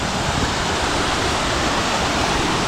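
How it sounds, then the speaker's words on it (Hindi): A Himalayan waterfall in the Valley of Flowers rushes with a loud, close, unbroken roar of falling water. "वाटरफॉल"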